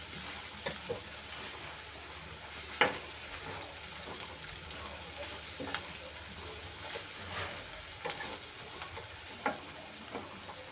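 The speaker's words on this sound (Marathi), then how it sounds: "आता हे छान मस्त भाजलं आहे म्हणजे आपल्या मिरच्याचा आपण कच्चेपणा गेलेला आहे निघून" Green chilies for pithla fry in a pan with a soft, continuous sizzle, broken by occasional sharp taps and clicks from stirring, close and quiet with no speech.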